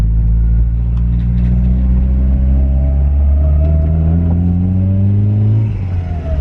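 A turbocharged Honda CR-V engine pulls hard and loud from close by, its deep drone rising steadily in pitch as the car accelerates, with a thin turbo whine climbing alongside before it eases off.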